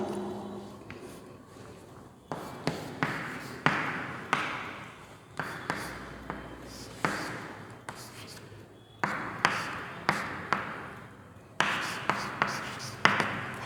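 Handwriting with a pen or marker, likely on a board during a biology lesson: bursts of quick scratchy strokes and taps in uneven clusters, close and moderately loud, with short pauses between groups.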